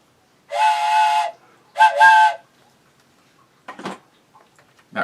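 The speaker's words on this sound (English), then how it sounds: "How about a little cow whistle?" A cow whistle gives two loud, breathy, sustained blasts close by, the second one split in two. A few faint rattles and taps follow in a quiet room.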